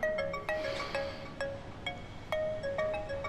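A mobile phone rings from a dialed call, its electronic ringtone melody repeating in clear, evenly spaced tonal notes throughout, moderately loud with no talk over it.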